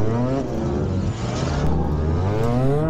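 A motorcycle engine in a moto gymkhana slalom run in Japan keeps up a loud, continuous buzzing drone with stacked, slowly rising and falling pitch as the rider works the throttle.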